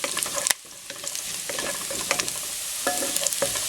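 Garlic sizzles softly in a pan of oil as the base for macaroni soup, with scattered stirring clinks and scrapes over a steady fry; close, moderate, no voices.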